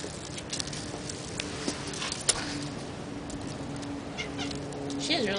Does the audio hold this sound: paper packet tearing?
no